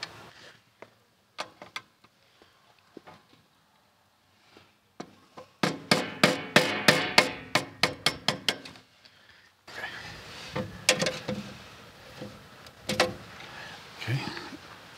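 A hammer strikes a metal breaker box again and again to knock a hole through its side, a close, sharp burst of rapid blows after a few scattered taps, followed by looser clattering handling noise.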